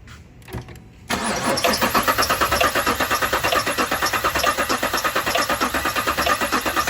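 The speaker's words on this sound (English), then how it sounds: "So I'm gonna get ready and turn it over for you." A Cadillac Escalade engine with a lifter tick cranks over and catches, settling into a loud, close, steady idle with a fast rhythmic ticking pulse throughout.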